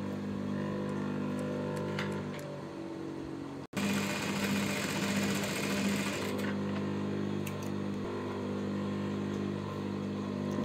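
A sewing machine runs steadily while stitching a baby girl's frill frock, its motor whirring in a continuous hum, briefly cutting out for a moment before resuming louder and then settling back to a steady drone.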